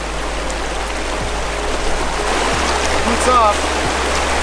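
A freezing mountain creek on the Slims River trail in Kluane flows as a steady broadband rush throughout, with a person speaking briefly over it and a few faint splashes near the end.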